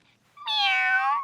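A voice imitates a cat, giving one drawn-out, nasal meow that lasts about a second, close and loud with no other sound around it.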